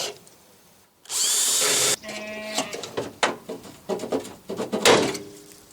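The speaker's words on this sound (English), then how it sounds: "Let us drill" A power drill bores out spot welds on the dash of a 1955–1959 Chevy truck, with a loud sustained whine for about a second, then a series of shorter, uneven bursts and pauses as the bit bites into the metal.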